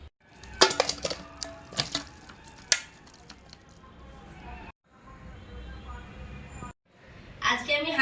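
Washed chicken pieces dropped and moved into a metal pot, giving wet clanks and sharp metallic knocks close by, followed by quieter handling and a brief voice.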